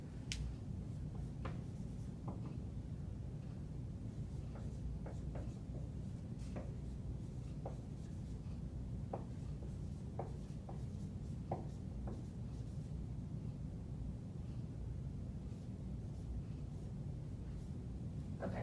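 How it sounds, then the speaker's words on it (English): Marker or chalk tapping and scratching on a board during an algebra lesson, a steady run of small strokes and taps over a constant low room hum, no talking. "I need to go back in and fill in some of my writing"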